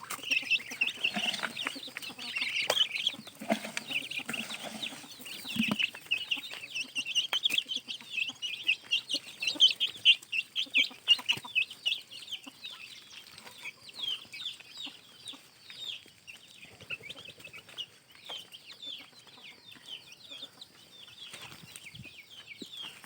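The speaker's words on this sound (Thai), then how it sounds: "นี่ลูกเป็ดเนาะบ่หลายดอก" A small group of four or five ducklings in a garden, making a continuous chorus of high, rapid peeping chirps, close and moderately loud, with occasional rustling and thumps beneath.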